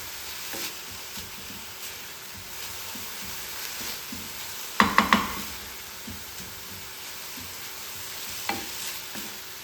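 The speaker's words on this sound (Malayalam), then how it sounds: "ഗരം മസാലപ്പൊടിയൊക്കെ ഇട്ടിട്ട് ജിഞ്ചർ ഗാർലിക് പേസ്റ്റൊക്കെ ഇട്ടിട്ട് ഒന്ന് വഴറ്റിയെടുക്കുക, അത്ര തന്നെ ഉള്ളൂ" Masala of onion, tomato, garam masala and ginger garlic paste fries and sizzles in a pan, stirred steadily, with a quick burst of three sharp clinks from a spoon against the pan midway.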